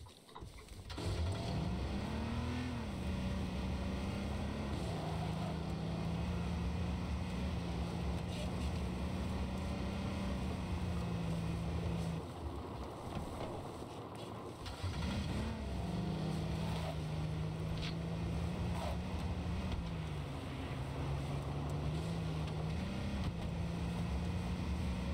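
A car engine drones steadily while driving in the H1Z1 video game, a continuous hum that dips briefly midway and then resumes, with faint background noise throughout.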